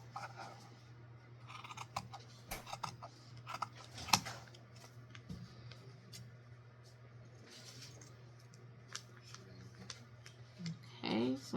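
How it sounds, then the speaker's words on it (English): Fabric scissors snip through denim in short, quiet crisp cuts, irregular and close, over a low steady electrical hum, with occasional faint talk nearby. "get your fabric scissors and cut 2 out at the same time"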